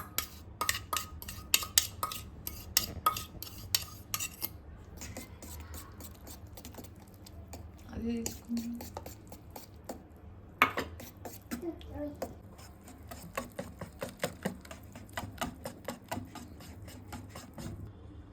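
Milk whisked into ragi muffin batter in a bowl, quick rhythmic clicking taps of utensil against the bowl in bursts with short pauses, close and moderately loud, and someone talks quietly at times.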